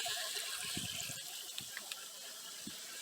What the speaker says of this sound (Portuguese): Acabou de encher nossa cama de cultivo, já está vazando aqui no sifão.